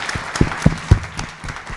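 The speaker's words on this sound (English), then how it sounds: "I think we should give all of them a big round of applause." Audience members at a California assembly district candidates' forum clap, with a few loud, close claps standing out over a sparse background of others.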